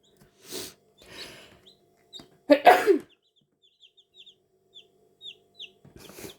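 Young chicks in a brood with a crested cockerel among them give scattered thin peeps and a few soft clucks, close by, with a throat-clearing noise and brief talk breaking in.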